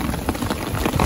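Rain falling outdoors on a Caribbean island, a steady dense patter of drops close by with no voices over it.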